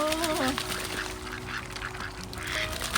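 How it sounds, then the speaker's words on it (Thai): A pet duck outdoors on a snowy morning gives several honking quacks, loud and close, at the start and again near the end, over steady outdoor background noise. "น้องเป็ดส่งเสียง"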